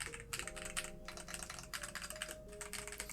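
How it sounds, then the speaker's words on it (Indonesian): Typing on a Rexus keyboard fitted with XDA keycaps: a quick, uneven run of soft, close keystroke clacks continues throughout over a faint steady hum, with no voices. "Nah ini keyboard Rexusnya udah gue ganti ke keycaps XDA Maca ya."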